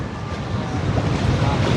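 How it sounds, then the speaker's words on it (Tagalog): Strong wind roars and buffets steadily, with a low rumbling surge that grows slightly louder, like gusts near open water. "Grabe, lakas talaga ng hangin."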